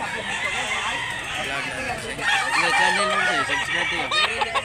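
A yellow-legged bullstag gamecock crows near a cockfighting area in Mantalungon, Cebu. Its drawn-out call rises over background clucking and the murmur of people talking nearby.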